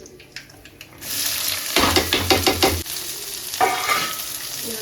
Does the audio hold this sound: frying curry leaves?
yes